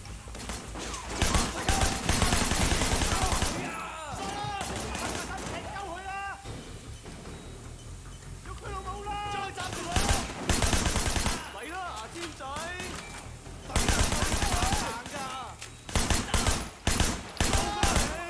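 Rapid bursts of gunfire from the Sleeping Dogs Definitive Edition video game: loud clustered volleys and single shots come in waves with quieter gaps between them, while a voice talks excitedly in the pauses.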